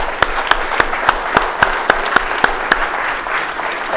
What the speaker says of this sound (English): That's worth an applause line.